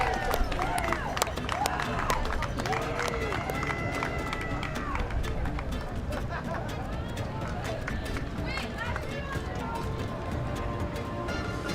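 A crowd at a Tulsa Tough criterium bike race applauding and clapping steadily, a dense rattling wash of hands with cheers and voices mixed in and talk over the top.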